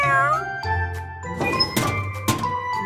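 A high, cartoonish kitten meow rises and falls, followed by a few softer mews with light clinks and thumps in between.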